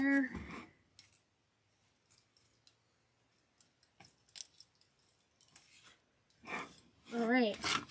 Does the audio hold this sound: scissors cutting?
yes